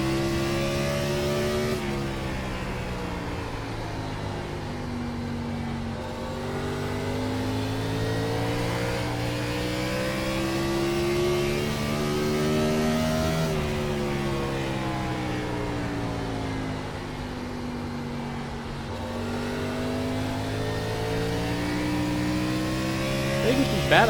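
Gen 4 Cup race car engines in iRacing at Richmond Raceway, revving and droning continuously as revs climb and fall in repeated sweeps through the corners, loud and up close.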